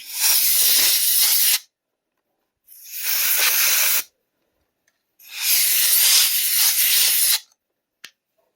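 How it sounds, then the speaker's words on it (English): Compressed air sprays onto the battery contacts of a Game Boy DMG in three loud, close hissing bursts separated by silence, ending with a faint click. "Cleaning it with my compressed air."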